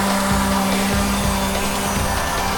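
A Stingray 500 quadcopter flies nearby, its motors giving a steady, harsh, buzzing whine with a low hum that wavers slightly in pitch, loud and continuous throughout.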